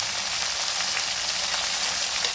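Cauliflower fries in a pan with salt, cooking until browned, giving off a steady, even sizzling hiss with fine crackles throughout and no voices.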